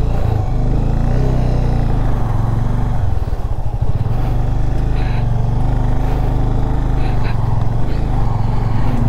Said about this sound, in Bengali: দাঁড়িয়ে যাই, এই গাড়িটা চলে যাক, তারপর আমরা যাবো।